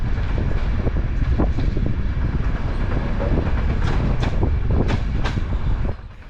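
A sleeper train running on the old Sofia–Istanbul railway line, a continuous loud rumble of wheels and carriage with rhythmic clicks and rattles over the rails, heard from inside, easing off near the end.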